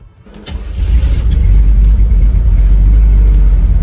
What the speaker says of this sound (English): we're gonna take this thing for a little test drive, just see if it's running, driving the way it's supposed to